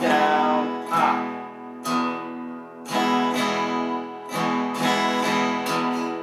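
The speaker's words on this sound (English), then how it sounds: "So if I were to take the folk strum and replace the first D with a B," A guitar folk strum pattern with a low bass-string stroke in place of the first downstroke, repeated in a steady, lilting rhythm of bass hits and lighter up and down strums, close and without talk.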